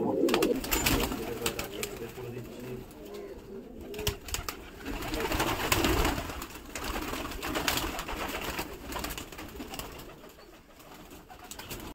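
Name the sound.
pigeons cooing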